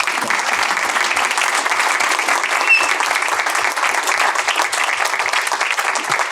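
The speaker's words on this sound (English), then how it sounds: "That deserves a hand clap." A meeting audience gives a steady, dense round of hand clapping that continues evenly throughout without fading.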